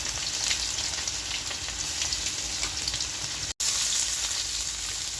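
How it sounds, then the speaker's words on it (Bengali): Jackfruit curry sautéing with ginger, onion and garlic paste gives a steady, dense sizzle that runs unbroken apart from one very brief dropout. "এই যে কাঁঠালের তরকারি এখন কষাবে"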